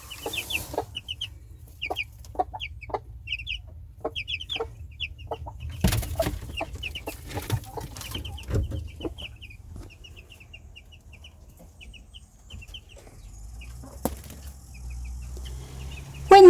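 A mother hen and her chicks in a chicken run, with soft repeated clucks and high chick peeps scattered throughout, fairly close, plus a few brief rustles and wing flaps.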